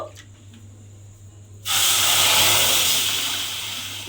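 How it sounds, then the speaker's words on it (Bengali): Water is poured into a pan of sugar on the stove, bursting into a loud, broad rushing hiss after a quiet stretch with a low hum, then holding steady and easing off slightly. "এইবারে আমি ওই একই বাটির 1 বাটি পরিমাণে জল দিয়ে দেব।"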